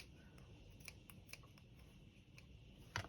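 Scissors trimming the fabric of a handmade slow-stitch book cover, a few faint, spaced snips in a quiet room, ending with a slightly louder click.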